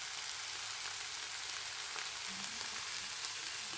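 Garlic and herbes de Provence simmer gently in a pan, making a soft, steady, even sizzle that stays constant and fairly faint throughout, with no voices.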